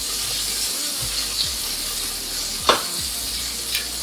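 Onion sizzling in a pan while a burger is being made, a steady, fairly loud hiss, with a few soft clinks and stirring scrapes from utensils.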